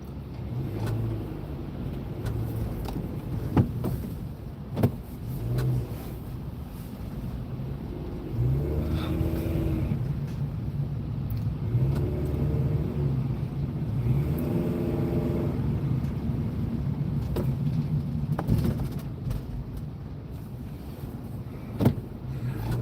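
Car driving up an on-ramp onto the Gardiner Expressway in slow traffic after recent snow, a continuous engine and road rumble with a few sharp knocks, heard alone without talk.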